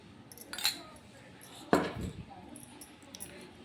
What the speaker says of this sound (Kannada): ಇದು ಒಂದು ಸ್ಪೂನ್ ಅನ್ನದ ಗಂಜಿ ತೊಗೊತಿದ್ದೀನಿ